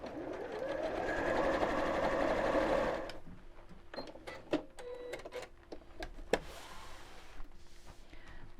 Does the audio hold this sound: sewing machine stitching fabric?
yes